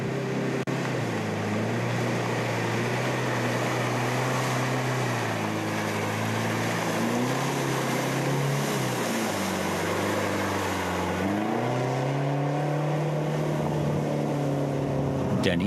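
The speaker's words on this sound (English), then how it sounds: "Laurie Sternbeck and Sean Calcino had little problem driving through in their white Toyota" A white Toyota rally vehicle grinds through long mud runs in an off-road competitive event, its engine droning steadily with rising and falling revs as it works through the terrain, loud and continuous.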